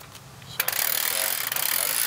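A Carefree RV awning retracts toward its motor with a steady, close mechanical whirring and rattling, set off by a sharp clack, with one brief interruption partway through.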